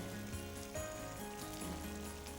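Chicken gizzards sizzling in a pan of fried onions, a steady, soft, rain-like hiss of frying with faint crackles, heard alone.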